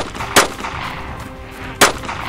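Two sharp, loud gunshots crack out about a second and a half apart in the video game DayZ Standalone, each a sudden broadband burst over a constant background of game ambience.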